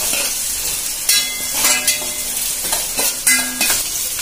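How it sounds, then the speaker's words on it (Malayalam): Masala and onions sautéing in a pan for a Chettinad fish curry, a steady loud sizzle with repeated scrapes and clinks of a spoon stirring against the pan. "നന്നായി ഒന്ന് മൂക്കണ വരെ വഴറ്റി"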